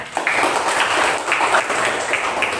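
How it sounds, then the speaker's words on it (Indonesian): A burst of group applause in a classroom, many hands clapping together for a couple of seconds. "Tepuk tangan untuk semuanya."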